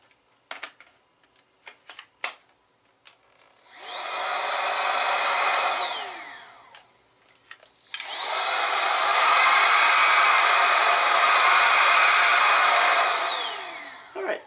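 A VACLAB X11 PRO dual-motor cordless aluminum stick vacuum starts up with a short whirring run, then a longer, louder run in turbo mode, each rising to a steady high whine before winding down, with faint clicks in between.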